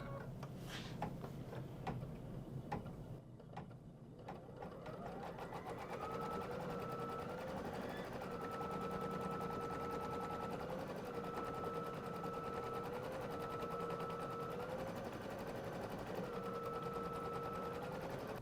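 An embroidery machine stitches a placement line for flower fabric on a Kimberbell quilt block; a few clicks open, then fast, even mechanical stitching runs steadily and close by throughout.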